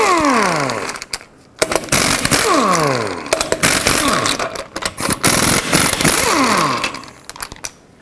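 Impact wrench spinning off the eight lug nuts on a Chevrolet Express van wheel with a 22 mm socket, in repeated loud bursts that rise and fall in pitch, each separated by brief pauses.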